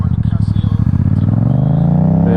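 Yamaha MT-07 motorcycle ridden on a sunny road, its engine loud and close with a pulsing, rising drone as it picks up speed, wind rushing over the microphone.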